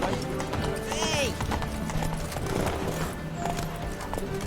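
A horse gallops in The Witcher 3 with rapid, steady clip-clop hoofbeats close up, mixed with game ambience and character voices over the top.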